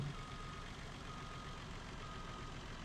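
Backing up a truck in Farming Simulator 19 sets off a steady, faint reversing beep that repeats at an even pace over the low hum of the idling engine.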